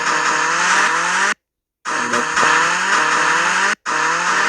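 Car engine and tire noise in the Minecraft game at a village car dealership, a steady loud whine with sliding engine tones and two brief dropouts, without talk.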